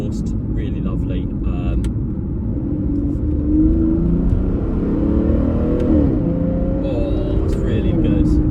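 A 2014 Aston Martin Rapide S with a 5.9-litre V12 and butterfly-valved sports exhaust drones and rumbles from inside the cabin as it accelerates on the road, with someone talking over the steady engine note.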